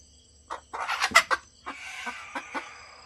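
A speckled hen clucks and squawks noisily up close, a burst of agitated calls followed by a few shorter clucks, with no talking.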